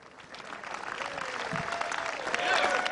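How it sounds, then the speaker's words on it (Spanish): Republican congressmen applaud President Trump after a narrow vote, a crowd's clapping rising steadily and growing louder toward the end, with voices mixed in. "Así, entre aplausos,"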